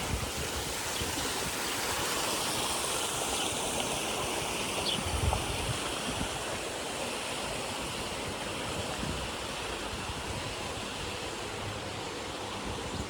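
Water splashing and running steadily in a public park fountain in Alicante, a continuous close rushing wash that holds even throughout with no voices.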